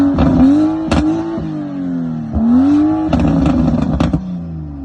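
A BMW F10 engine revs hard several times, deep loud rising roars with rough idle between blips, close and alone.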